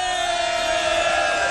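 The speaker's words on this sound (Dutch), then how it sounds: "Applaus voor deze jongen." A quiz show audience cheers and whoops for a contestant, a dense, loud and sustained roar of voices filling the space without pause.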